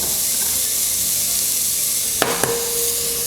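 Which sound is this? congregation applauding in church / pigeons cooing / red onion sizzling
red onion sizzling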